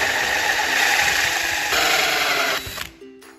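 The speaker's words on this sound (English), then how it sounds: "I'm just gonna drill a hole where I think it looks visually best" A continuous high-pitched whine of a power drill with a hole saw cutting steadily through wood, then the tone drops and stops near the end.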